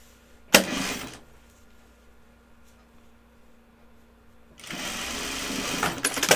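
Sewing machine stitching garment seams for sample-sale pieces, a short burst of rapid stitching, a quiet pause with a faint hum, then a longer steady run of stitching at close range, with no talking.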